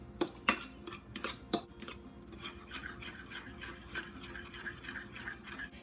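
Egg and mayonnaise are mixed by hand for cranberry orange scones. A few sharp clinks open the sequence, then a soft, rhythmic scraping and rubbing of strokes follows, close and quiet.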